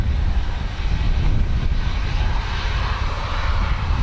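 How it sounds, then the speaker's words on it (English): Aircraft engine roar from planes arriving at Dublin Airport on a windy day, a steady loud broadband rumble with wind buffeting the microphone throughout. "Now I have put the microphone outside of my jacket just to pick up the aircraft noise."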